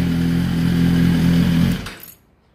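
A 2018 Suzuki GSX-R1000 sport bike engine idles loud and close at raised revs with steady droning tones, then is switched off and dies away to near silence.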